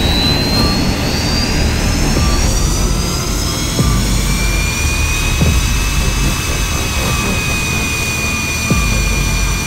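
A fighter jet engine spools up during start, a loud continuous roar with a rising high-pitched whine that climbs and holds steady, close by and filling the whole stretch.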